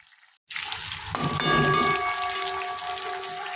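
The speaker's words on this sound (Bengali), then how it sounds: "এদিকে পটলটা ভাজা হয়ে গেছে" Pointed gourd (potol) fries in a pan with a loud, broad hiss that begins abruptly after a short quiet moment and holds steady, with a faint whistling tone over it.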